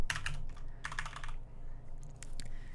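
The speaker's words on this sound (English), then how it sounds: "let's type an end" Quick bursts of typing on a computer keyboard, close and fairly quiet, with clustered key clicks in short runs separated by brief pauses.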